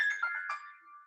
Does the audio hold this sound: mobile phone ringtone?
yes